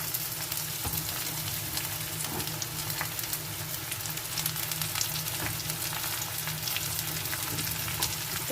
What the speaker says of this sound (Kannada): ಸೊ ಹಾಗಾಗಿ ಸ್ವಲ್ಪ ಬೇಯಿಸ್ಕೊಳ್ಳಿ. Carrot, beans, cabbage